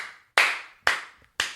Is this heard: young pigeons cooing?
no